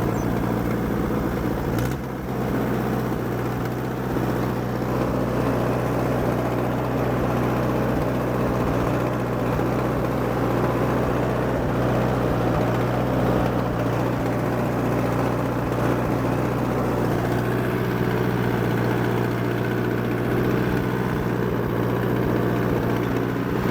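An Allis Chalmers D14 tractor ploughs a garden, its engine a steady, loud, continuous drone with a low rumble that holds even throughout the pass, with no talk.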